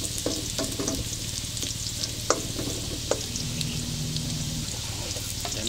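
Garlic sautés in hot oil for Filipino tokwa't baboy, giving a steady, close sizzle. Scattered clicks and scrapes of stirring punctuate it, with a faint low hum underneath.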